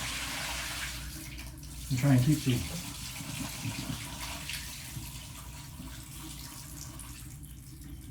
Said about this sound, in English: I'm going to dump out my water